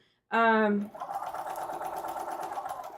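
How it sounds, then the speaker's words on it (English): A sewing machine stitches curves on a sewing project, starting with a short loud whirring burst and then running in a quick, steady rhythmic chatter close by. "when I am sewing these curves, I do raise and lower as much as I need to"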